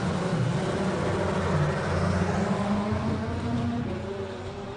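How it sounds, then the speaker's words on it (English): An A1 GP Ferrari race car at the Simola Hillclimb gives a sustained engine drone that holds steady and slowly fades as it climbs away. "cars sound so good. I sometimes feel I don't even want to talk over them."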